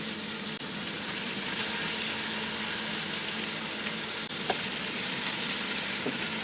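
Beef sizzles steadily with spices, chopped green chillies and garlic in a pot while being browned for yakhni pulao, a loud continuous frying hiss with faint stirring clicks.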